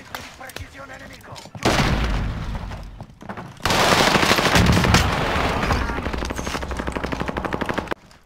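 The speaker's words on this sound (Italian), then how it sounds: "Bombardamento di precisione nemico." Heavy enemy precision bombardment in a video game: dense, loud bursts of rapid gunfire and booming impacts roll on continuously, with voices faintly underneath.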